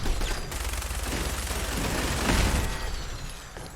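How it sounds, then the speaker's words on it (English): A machine gun turret fires in Fallout 4, with dense, continuous bursts of automatic gunfire lasting the whole stretch and rising slightly near the middle, loud and close. "Machine gun turret."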